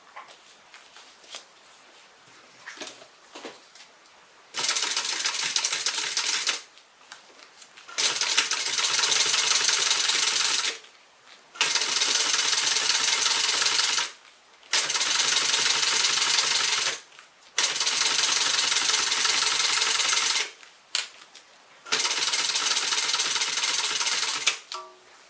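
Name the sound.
sewing machine stitching a faux croc tote bag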